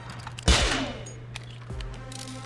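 A single booming gunshot from the Roblox game Murder Mystery 2, with a long decaying tail, over a steady game hum, followed by a fainter thud later.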